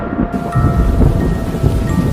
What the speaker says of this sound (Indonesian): tiba-tiba hujan turun sangat lebat dari arah tengah hutan